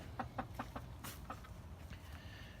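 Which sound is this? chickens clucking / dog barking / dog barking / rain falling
chickens clucking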